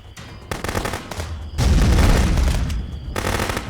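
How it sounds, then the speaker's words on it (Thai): Gunfire bursts in the video game Contraband Police, followed by a heavy, booming hand grenade explosion that rumbles loudly for over a second, then more shots. "โหระเบิดมืออีกละ"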